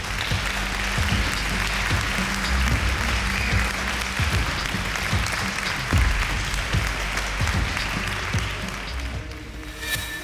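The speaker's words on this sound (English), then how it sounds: "Suddenly, a cheer goes up." A huge crowd in a hangar-sized hall at a yoga gathering breaks into sustained applause and cheering, a dense close roar of clapping that fades slightly at the end.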